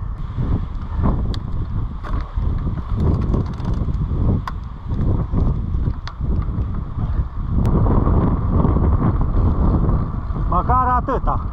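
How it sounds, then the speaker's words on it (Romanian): Headwind buffets the microphone of a moving vehicle on a road lined with a guardrail, a loud low rumble with gusty surges and a voice heard briefly. "Un vânt din față."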